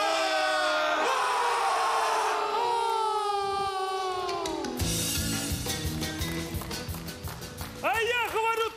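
A crowd at an outdoor Maslenitsa festival yells and whoops together in a loud shared shout, with voices, music and cheering around it.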